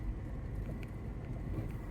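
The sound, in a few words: cold wind at the seashore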